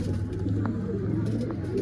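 Soft, low pigeon cooing close by, a continuous murmuring call with a few faint clicks in the background.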